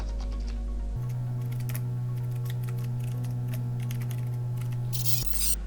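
Computer keyboard typing while text is entered in Photoshop, a close run of light, quick key clicks in uneven bursts over a steady electrical hum, with no one speaking.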